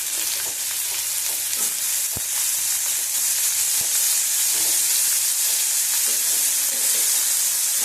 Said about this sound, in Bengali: বেগুনটা বেগুনটা ভেজে নিলাম